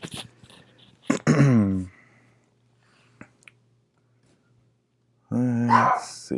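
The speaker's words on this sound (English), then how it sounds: "Oh, you can hear my doggy." A pet dog barks close by in a quiet room, a short burst of barks near the start and another near the end, with near silence between.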